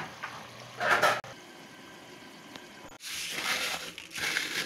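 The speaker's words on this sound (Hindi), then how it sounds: "इसको क्रश करने की वॉइस आप देखें" Crisp fried onions crushed by hand in a home kitchen while cooking mutton qorma with potatoes, giving two bursts of dry crackling and crunching separated by a quieter stretch, close and fairly loud.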